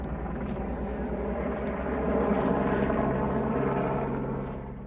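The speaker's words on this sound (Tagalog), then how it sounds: "Kung bakit umiikot ang helicopter doon." A helicopter circling overhead drones steadily with a dense rumble that swells slightly and then eases, as though passing at a distance, with no speech.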